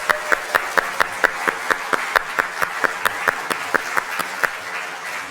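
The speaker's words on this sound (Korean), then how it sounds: "우리 사랑하는 우리 중고청 우리 학생들 모두에게도 한번 크게 박수로 축복하겠습니다" A church congregation claps in unison for its middle and high school students during a Sunday praise service, a steady rhythmic beat of about four claps per second, loud and close, with no talk over it.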